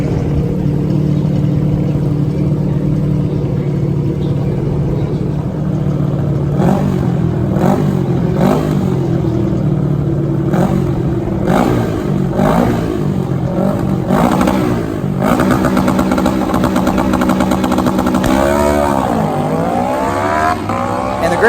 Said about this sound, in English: And here comes the Ruckus Suzuki GS